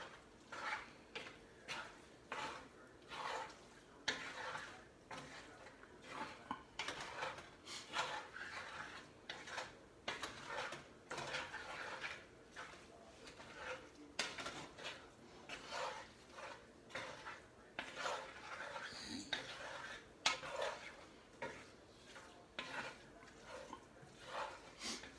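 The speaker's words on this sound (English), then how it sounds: "I'm going to mix all this stuff together and just let the cheese melt in with the pasta and the kale" Goat cheese, pasta and kale are stirred together in a pot, giving soft repeated scraping and clinking strokes of a utensil against the pot in an uneven, steady rhythm, fairly quiet and close.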